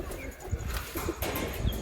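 Pigeons kept by a fancier in Howrah, Kolkata, give soft, low coos at close range. Several throaty calls come over a light, busy background with faint chirps.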